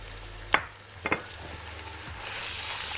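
Turmeric and then pepper sautéing in a hot pan for Gulf-style rice with turkey, a steady close sizzle with a few sharp utensil clinks against the pan and the frying swelling louder at the end.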